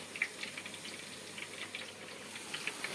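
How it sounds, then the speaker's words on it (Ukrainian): A continuous crackling sizzle of eggplant deep-frying in hot oil, with small pops scattered throughout, steady and fairly soft. "Ось так воно собі жариться."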